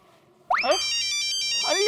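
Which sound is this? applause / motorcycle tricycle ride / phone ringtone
phone ringtone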